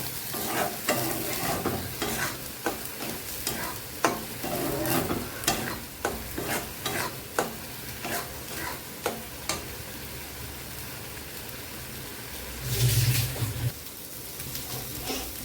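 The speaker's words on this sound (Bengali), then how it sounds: "ডালটার মধ্যে একদম ভালো করে কষিয়ে নেব" Spiced mung dal with green chilli, Kashmiri chilli and ginger is stirred and fried in a pan. A steady sizzle runs under repeated scraping strokes of the spoon, with a louder hiss near the end.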